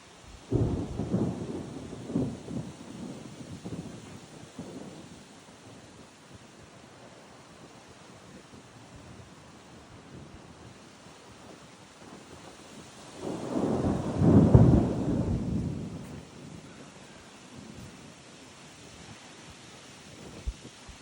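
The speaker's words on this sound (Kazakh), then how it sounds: "Бұлтпен бірге жел келді." Storm wind rising with approaching clouds in Oskemen, East Kazakhstan, blowing as a broad rushing roar that swells, eases into a lower steady hiss, then surges loudly again before settling back, with no voices.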